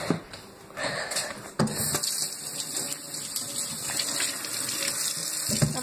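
Tap water runs into a container for an Easter egg toy, a continuous close gush and splash with a few knocks and clunks at the start and end.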